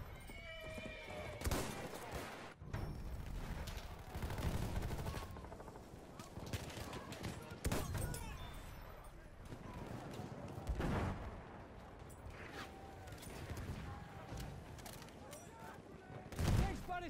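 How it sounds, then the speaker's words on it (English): Enemy machine gun fire in a World War-era shooter video game, rapid bursts of gunfire punctuating continuous battlefield noise, with loud sharp cracks standing out and shouted voices under the din. "Enemy machine gun sighted!"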